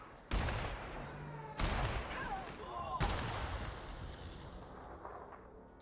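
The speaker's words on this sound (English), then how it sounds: "Opening fire!" Three loud gunshots ring out in the video game The Outer Worlds, spaced over a second apart, each a sharp crack followed by a long rumbling echo that fades into the background.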